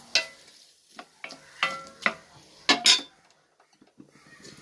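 Tomatoes sauté in a pan for anchovy fish soup: soft sizzling sits under several clanks and scrapes of a spoon stirring against the pan, close by and spaced irregularly.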